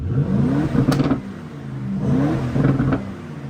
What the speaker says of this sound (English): That sounds sick for a stock exhaust.